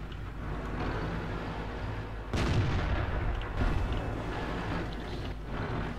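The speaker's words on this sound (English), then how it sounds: "Artillery got you." Artillery fire in World of Tanks: a heavy boom lands midway over a constant loud rumbling engine and battle din, followed by another thump a second later.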